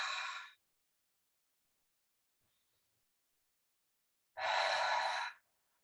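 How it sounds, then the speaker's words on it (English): Two open-mouth 'ha' exhales during a chair yoga session: one breathy release at the start, then a long quiet pause, then a second, fuller breathy exhale near the end. Both are close and clear, with no talking. "Maybe some open mouth, ha sounding exhales here"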